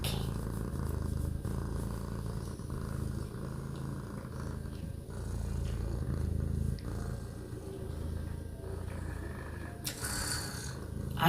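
A cat purrs steadily and close for about eleven seconds, a continuous low rumbling with a rhythmic in-and-out pulse and no voices.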